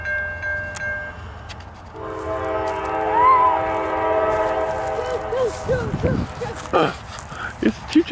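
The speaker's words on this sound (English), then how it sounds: "It's a choo-choo train." A slow train passes with a long sustained horn blast, then rumbling and clanking wagons joined by scattered footsteps and voices nearby toward the end.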